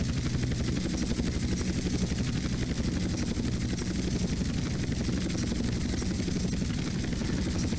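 A helicopter in GTA San Andreas flies under a heavy load, its rotor producing a loud, continuous, rapid chopping drone that stays steady throughout.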